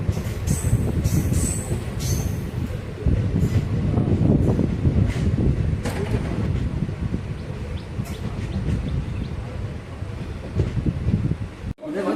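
A passenger train at Sankagiri Durg railway station in Tamil Nadu, its wagons rumbling steadily and close with a faint wheel squeal, wind buffeting the microphone over a low continuous roar.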